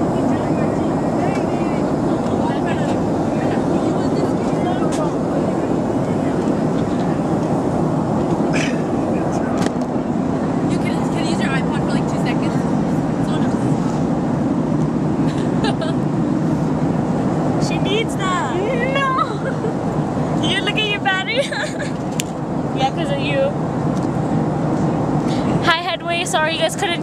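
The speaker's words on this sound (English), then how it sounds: "We're in the airplane right now, you know?" Steady, loud airliner cabin roar in flight, a continuous broadband engine and air rush that runs throughout, with people chatting and laughing over it.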